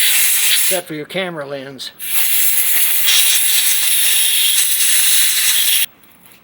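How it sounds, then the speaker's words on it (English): Compressed air blowing through the carburetor orifices of a John Deere 185 riding mower during a rebuild, a loud steady close hiss lasting several seconds and stopping abruptly, preceded by a brief spoken remark. "Blow out all your orifices, and you blow it out with compressed air."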